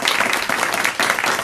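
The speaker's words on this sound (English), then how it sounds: "We can give her a big round of applause." Applause for a student at a school district board meeting, a steady wash of many hands clapping in a room, moderately loud and continuous for the whole moment.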